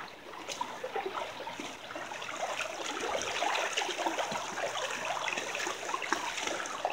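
Steady rushing water of Abrams Creek in the Great Smoky Mountains, a continuous broadband babble of flowing stream that stays even throughout, with no voices.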